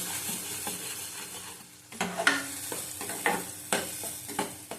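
Bitter gourd stir-fried with panch phoron five-spice in a pan, a soft sizzle broken by bursts of spatula scraping and stirring, growing busier in the second half.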